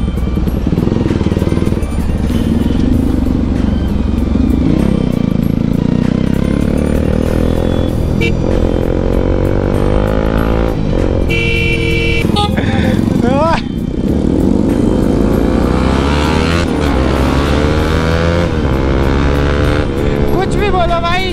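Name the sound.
loud exhaust motorcycle roaring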